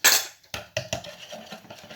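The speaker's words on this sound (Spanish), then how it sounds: "Un huevo, y comenzaremos a batir." An egg being beaten in a bowl for cinnamon roll batter: a utensil clinks against the bowl in quick irregular strokes, starting with a loud hit and then settling into a lighter whisking rhythm, with no talking.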